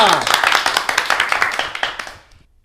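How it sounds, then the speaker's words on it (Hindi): Clapping from an audience applauding a team at a disaster-management science quiz, a short burst of dense hand claps that thins out and stops after about two seconds. "टीम डी के लिए तालियां।"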